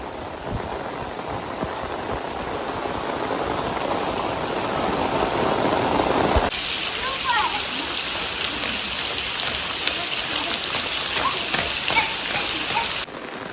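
Heavy rain pours down on a village, a dense steady hiss of drops hitting surfaces and water, close and continuous for the whole stretch, intensifying midway.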